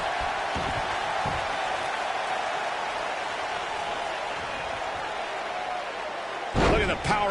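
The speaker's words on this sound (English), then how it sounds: "Look at the power on display with that gut-wrench suplex." A gut-wrench suplex slam in the WWE 2K19 wrestling video game lands as a loud, heavy impact near the end, following a long stretch of steady crowd noise from the arena.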